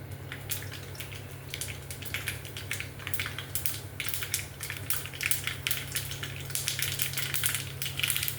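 Mustard seeds, chillies and fenugreek crackle and pop in hot oil, a dense, steady sputter of small snaps over a low constant hum.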